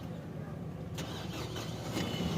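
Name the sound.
car engine starting with the starter motor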